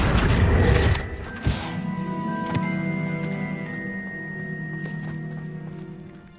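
Confringo fire spell cast in Hogwarts Legacy, landing as a loud booming blast near the start, followed by a second sharp crack and a long ringing, shimmering magical tail that slowly fades.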